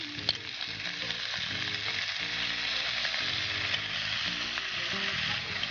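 Egg fries over high heat in a pan as soy sauce is added, producing a loud, continuous close-up sizzle with occasional stirring scrapes and no speech.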